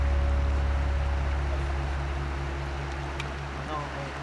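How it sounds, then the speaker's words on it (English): Steady outdoor water noise flows continuously in a peaceful natural spot, a broad rushing wash with a low rumble underneath, loud and even throughout, with no talking. "We just hear the noise of the water."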